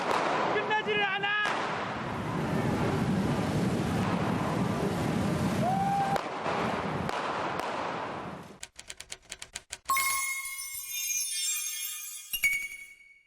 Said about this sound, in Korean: 지금 불꽃 던져가지고 아직도 끝나지를 않아